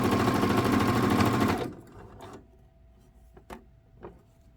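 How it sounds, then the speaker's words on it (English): A sewing machine stitches near the edge of a refashioned garment, running steadily and loud for about a second and a half before stopping, followed by a few faint clicks and handling sounds. "I've moved my needle over to the far right position so that my stitching is close to"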